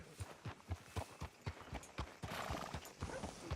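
Horse hooves clip-clopping in Red Dead Redemption 2 at a steady walking rhythm, with roughly a dozen distinct close hoof strikes over a low background wash.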